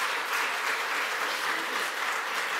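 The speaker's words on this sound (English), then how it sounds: "Give God a great big hand clap of praise." A church congregation claps their hands in praise during Sunday morning worship, a continuous, even roar of many hands filling the room at steady volume with no speech over it.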